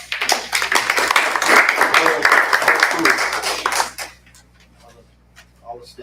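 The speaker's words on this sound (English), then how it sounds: "Round of applause." A round of applause at a school board meeting: dense, steady clapping from a roomful of people for about four seconds, then stopping abruptly into a quiet room with faint murmurs.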